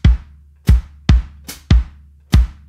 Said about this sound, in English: the one I'm going to use here is kind of this Latin-flavored foot pattern.